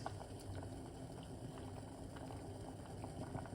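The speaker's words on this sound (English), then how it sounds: "Boil up some Cerasee" Cerasee leaves and orange peel boiling in a pot of water for tea, a continuous close bubbling and gurgling with fine patter, steady and alone without voices.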